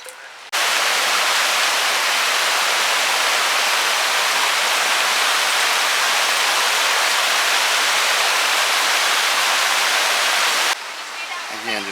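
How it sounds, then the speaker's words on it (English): A creek flowing beside a walking path in Gatlinburg, Tennessee, rushes loud and close as a steady, dense broadband roar for about ten seconds, cutting off abruptly near the end. "just a beautiful walk here along the creek"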